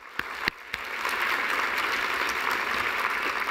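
Conference audience applauding at a closing session, a few sharp single claps at first, then swelling into sustained steady applause that fills the room.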